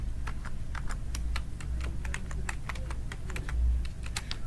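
Steady typing on a computer keyboard, a run of quick, close key clicks in uneven rhythm over a low background hum, with no voice.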